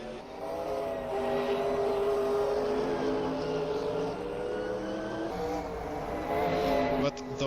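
Group C race car engines roaring at Laguna Seca in a sim racing game, a loud sustained engine note with shifting harmonic pitch running throughout, briefly dipping near the end before surging again.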